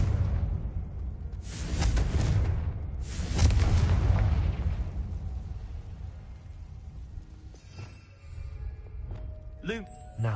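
A Confringo blasting spell bursts in a Hogwarts video game, giving heavy booming blasts with rumbling tails, then lighter magical whooshes and chimes as the scene settles.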